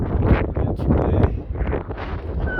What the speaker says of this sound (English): Wind's a bit fresh up here, I can tell you.